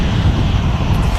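A Jet2 Boeing 757 on its takeoff roll at Manchester Airport makes a loud, continuous low jet-engine roar with wind buffeting the microphone.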